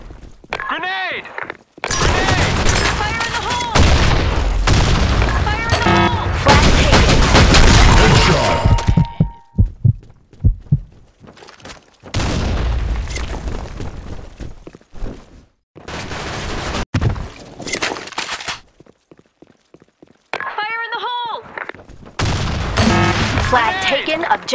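Grenade blasts and rapid gunfire fill a BlackShot online shooter match, loud dense bursts of automatic fire and booms broken by short silences, with game announcer voice lines between the volleys.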